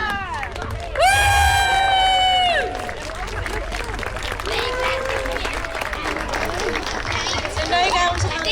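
A crowd at the official opening of a town park cheers with a long sustained whoop, then keeps clapping and chattering, children shouting among them outdoors.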